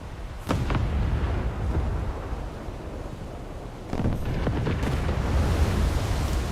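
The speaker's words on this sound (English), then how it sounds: "Oh boy, that's a torpedo." A torpedo strikes a ship in a naval video game, a deep rumbling blast near the half-second mark followed by a second heavy impact around four seconds, over steady low roar and wind-like noise.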